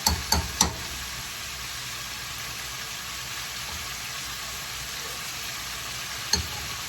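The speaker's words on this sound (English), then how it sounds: "just after you get your little sear on it, you just want to turn it over and let that side cook a bit" Chicken sears and browns in a frying pan for a chicken and potato fricassee, giving a steady, moderate sizzle with a few sharp clicks near the start and one near the end, and no talking.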